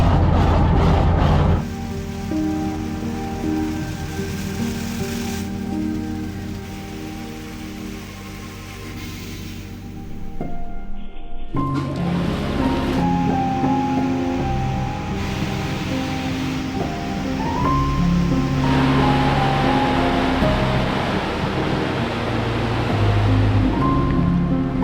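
Automatic car wash machine spraying water over a car during a double machine wash cycle, a loud steady rushing hiss of jets and water drumming on the body that briefly drops partway through, then surges back with whirring machinery.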